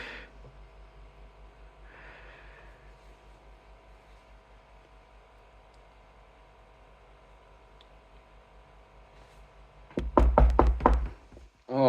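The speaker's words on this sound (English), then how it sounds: "Oh, somebody's knocking on the door." A door is knocked on several times in a quick burst of loud raps, following a long quiet stretch of faint room hum.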